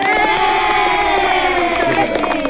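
Live studio audience on a morning news show cheering and whooping in a dense, continuous crowd roar for a couple of seconds, with voices mixed in.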